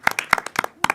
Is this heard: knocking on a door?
no